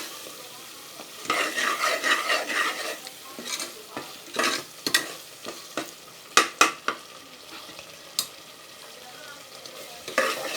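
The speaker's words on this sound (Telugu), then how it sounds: "చూడండి ఎలా బుసబుసమని పొంగుతుందో. వాసన పోయేంత వరకు మనం ఇలా కలుపుతూ ఉండాలి." Spicy mutton gravy masala sizzles and bubbles in a pan while a spoon stirs it, with repeated scraping strokes over a steady close frying hiss.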